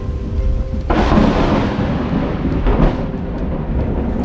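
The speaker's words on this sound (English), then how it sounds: "It was raining and thundering heavily" A loud crack of thunder breaks out and rolls on, with another rumble following, over heavy rain falling steadily.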